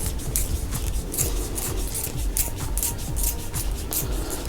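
A wooden arrow shaft for a longbow is turned in a sharpener to cut the nock end, giving a steady close rasping scrape with rhythmic pulses and no talk.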